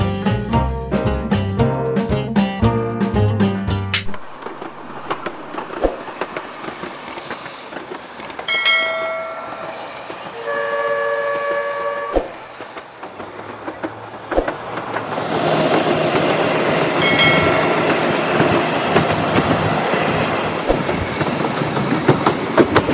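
The Shivalik Deluxe toy train on the Kalka to Shimla line rolls along with a steady rumble and rattle. Sharp clicks come through it, a bell-like tone rings in the middle and the noise swells louder toward the end.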